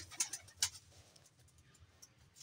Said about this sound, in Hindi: चार कबूतरों से मैंने ये सारे कबूतर बनाए।